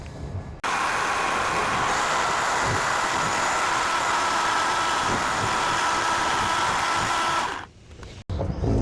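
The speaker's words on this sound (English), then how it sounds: "And we're going to do that with the jigsaw." A jigsaw cutting through metal trim on a cattle gate, a loud, steady buzzing drone that starts abruptly, runs unbroken for about seven seconds, then cuts off.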